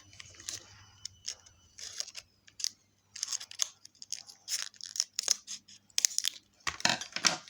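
Scissors snipping through rubber while making slime, a series of short crisp cuts and crunches up close, some in quick bursts, with a soft low hum underneath and no talking.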